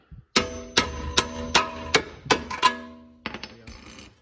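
Hammer tapping on the threaded collar of a coilover during suspension work on an FC RX7: about seven sharp, ringing metallic strikes in a steady rhythm, close and loud, followed by a couple of lighter clinks.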